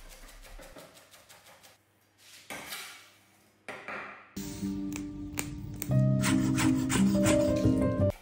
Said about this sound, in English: I will chop some dill.